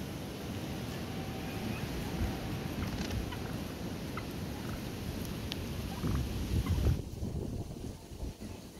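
Several turkeys gobble and squabble outdoors, repeated gobbling calls at moderate distance over wind and background rumble, with a louder burst of commotion near the end.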